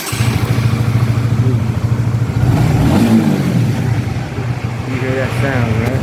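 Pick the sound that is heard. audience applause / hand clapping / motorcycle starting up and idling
motorcycle starting up and idling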